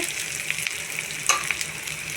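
Greens frying with sesame powder in a pan, a dense continuous sizzle with a few sharp crackles and a stir, loud and close, with no talking.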